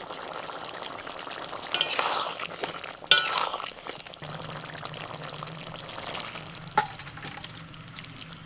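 Ridge gourd and potato in poppy seed paste bubble in a pan while a little raw mustard oil is poured in, a soft steady simmer with a couple of pouring swishes and clinks of a utensil.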